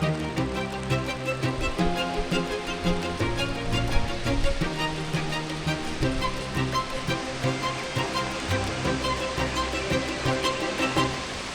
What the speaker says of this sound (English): with the heavier rain came more waterfalls